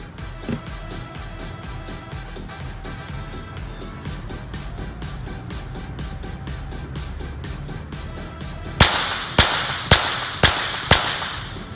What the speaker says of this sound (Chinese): 您现在看到的男子25米手枪速射比赛